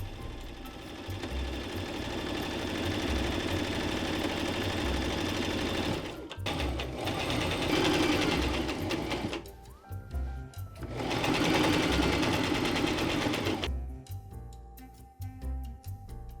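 A sewing machine stitches fabric for a bag in steady, loud runs, pausing briefly between bursts of the motor's rapid chatter.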